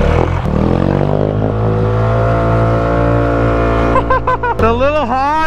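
A tuned Honda's exhaust rumbles loud and close while driving through a swamp, a deep steady drone that shifts pitch near the end as the engine revs, with excited voices over it.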